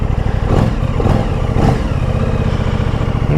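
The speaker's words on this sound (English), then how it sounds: "Doing a quick test ride for the RS660." An Aprilia RS 660 motorcycle on a test ride, its engine revving loud and close in a few rising surges over a constant rough drone.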